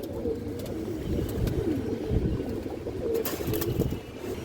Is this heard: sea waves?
no